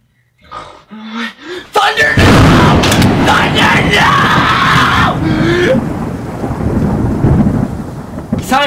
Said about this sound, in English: It could be like thunder